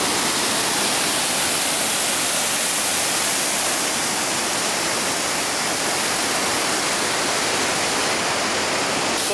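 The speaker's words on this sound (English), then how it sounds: "Closer view to the waterfall." A waterfall in Yosemite National Park roars loudly and steadily, a dense unbroken rush of falling water close by, with no voices.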